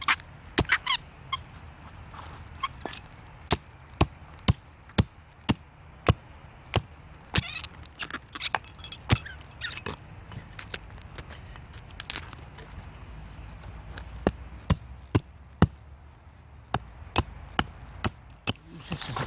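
A blade chops and trims a piece of resinous fatwood pine dug from the ground, with sharp, evenly spaced cracking strikes that repeat steadily, close and fairly loud, over a quiet outdoor background.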